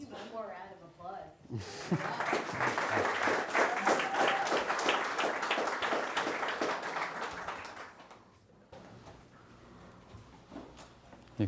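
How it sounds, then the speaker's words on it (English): An audience at a memorial design lecture applauds the speaker at the close of the talk, a warm round of clapping that swells after a brief pause, holds for several seconds, then fades as voices resume. "Maybe one more round of applause."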